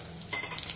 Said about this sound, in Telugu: పచ్చడికి వేయించానండి.